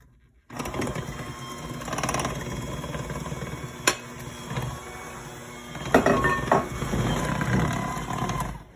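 An electric mixer runs at low speed through Italian pizza dolce cake batter with salt sprinkled over it: a steady motor whir with light rattling clatter, fairly close and continuous for the whole stretch after a brief silent start.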